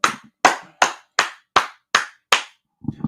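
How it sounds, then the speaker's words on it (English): Seven sharp, evenly spaced hand claps ring out alone at a steady rhythm, each fading quickly, followed by faint low murmuring at the end. "Hey, let's clap it up."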